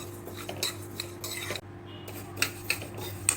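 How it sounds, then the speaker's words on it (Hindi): Fennel seeds are dry roasted in a pan, giving close metallic scraping and rattling as a spoon stirs them, with a few crisp clinks and a low steady hum underneath. "तो इसको हम थोड़ा सा भून लेते हैं।"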